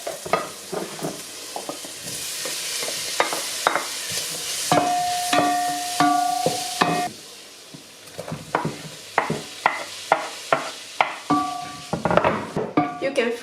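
Bacon, sausage and onion frying in a pot for a Polish sour rye soup, a steady sizzle broken by repeated scrapes and clinks of a spoon stirring against the metal, close and fairly loud, with no talking.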